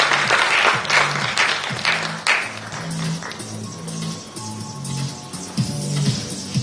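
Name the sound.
audience applause for a speaker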